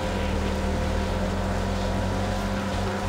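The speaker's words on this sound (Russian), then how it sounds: "Либо это у нас не очень быстрый катер" Motorboat engine in the video game Far Cry 4, a constant loud droning hum while the boat cruises, with no talk.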